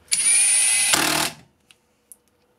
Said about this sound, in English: For those who like driving little screws, here is your shot. This is on the low speed.